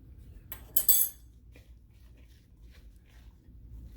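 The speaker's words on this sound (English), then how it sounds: "Mix that all around." A utensil stirring a creamed corn mixture with cayenne in a bowl, giving a few quiet clinks and a short scraping burst, then soft faint scrapes.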